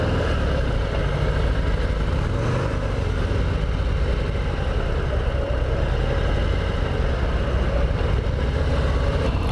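A Harley-Davidson Heritage Classic 114 motorcycle engine runs steadily throughout while riding, a loud, continuous low rumble with wind noise and no talk.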